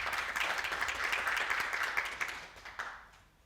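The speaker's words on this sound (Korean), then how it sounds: "박수 부탁드립니다" An audience at a railway technology seminar claps for a researcher taking the stage, a busy patter of many hands that thins out and fades near the end.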